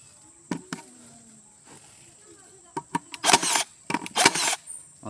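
A cordless brad nailer (TCBNLI2008) fires nails into soft plasterboard: a few sharp single snaps early, then quick bursts of rapid, loud clacking shots near the end, with quiet pauses between.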